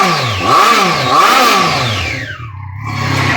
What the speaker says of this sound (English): that's a kind of exhaust that says, I'm ready to go at an idle